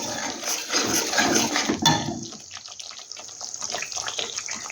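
Water pours and splashes as a spice-coated bowl is rinsed in a home kitchen while a bottle gourd dish is made, loud and steady for about two seconds, then fading to softer trickles and drips.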